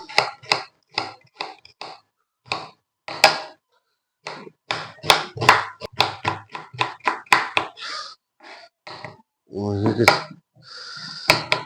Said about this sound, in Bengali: সর্বপ্রথমে পেঁয়াজ নেবেন, পেঁয়াজটা এইভাবে কাটবেন, কুচি করে কাটবেন